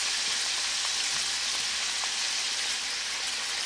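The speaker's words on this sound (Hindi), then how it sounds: "अब हम इसके अंदर लैम डाल देंगे। प्याज को गोश्त में भून लिया।" Lamb pieces frying with onions in a pan, a steady dense sizzle with scattered pops and crackles, loud and close throughout, no talking.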